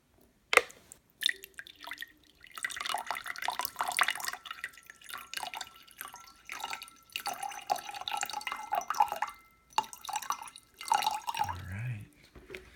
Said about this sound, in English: we're just gonna pour some of that water